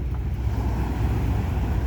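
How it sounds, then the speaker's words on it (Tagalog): Big waves rumble and churn close by, a heavy low roar mixed with wind buffeting the microphone. "Oh, malaki alon."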